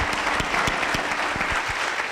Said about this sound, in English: let's give our panel a very big round of applause